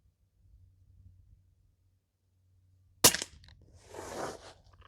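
Single sharp crack of a Umarex Notos PCP air rifle fired with a Huben power dream valve, sudden and loud after near silence, followed by a brief hissy rustle and faint low hum.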